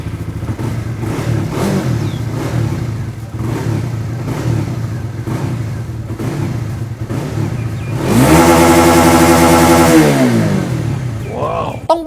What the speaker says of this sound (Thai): เดี๋ยวเรามาฟังเสียงท่อเปิดสวิตช์นะครับผม